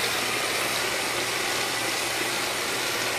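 A repaired iRobot Roomba side brush motor runs steadily, giving a continuous, even whirring hum with no breaks, close and moderately quiet, with no voices.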